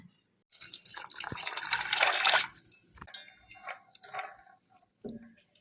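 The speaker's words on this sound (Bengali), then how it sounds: "আমন্ডটাও একটু জল দিয়ে ভিজিয়ে রাখবো।" Water poured from a tap or jug over almonds to soak them for a mango fish recipe, a steady splashing pour of about two seconds followed by scattered drips and small clinks.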